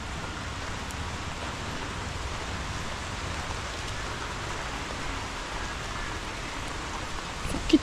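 Heavy rain falls steadily, a dense even hiss that holds throughout with no voices over it.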